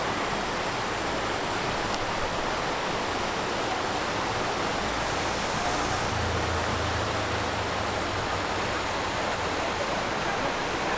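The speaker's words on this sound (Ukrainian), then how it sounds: "Та частина річки, куди впадає згори вода, утворюючи киплячий котел." A waterfall pours into a churning river pool below, where water has cut through soft shale and sandstone, giving a loud, steady, unbroken roar that fills the whole stretch with no voices.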